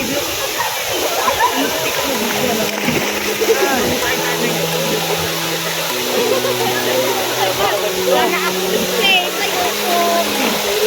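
Rushing water at Bunga Falls, a loud continuous roar of the waterfall under scattered voices of people gathered nearby.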